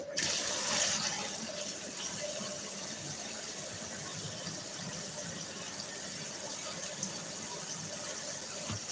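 Water runs steadily from a kitchen tap while a box's features are washed of spilled oil, a continuous close splashing rush that bursts louder at the start, without talking.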